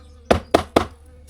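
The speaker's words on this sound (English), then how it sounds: "I might take a nib off there with the hammer." Three sharp knocks of a hammer striking granite to knock off a small piece, evenly spaced and close, with quiet between blows.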